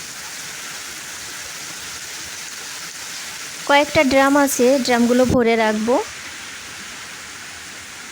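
Rain falls as a steady, even hiss throughout, with a person speaking briefly over it midway.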